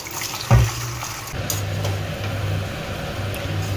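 Vegetables for fried rice are rinsed under a running kitchen tap. The water gives a steady, close stream with a brief louder splash or clatter near the start, and no one speaks.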